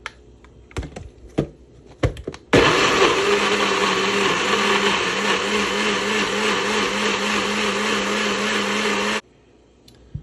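A kitchen blender pureeing onion and celery into a sauce, a loud steady whir starting abruptly after a few clicks and running for several seconds before cutting off.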